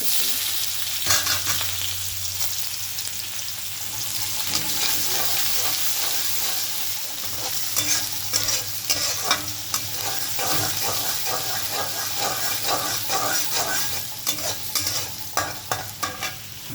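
Onions added to oil with cumin and five-spice for a Bangladeshi hotel-style dal, sizzling loudly while being stirred, with scraping clicks of the spoon over a continuous fry, no talk.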